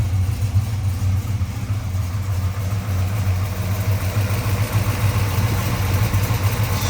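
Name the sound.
1971 Chevrolet Monte Carlo V8 engine idling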